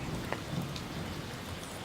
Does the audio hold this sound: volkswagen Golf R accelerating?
no